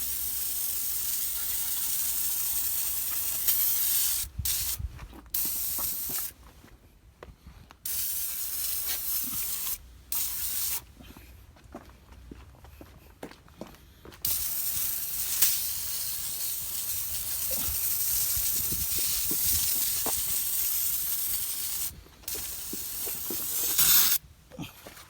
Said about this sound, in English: let's go ahead and get this sprayed on, let it sit, and then wash it off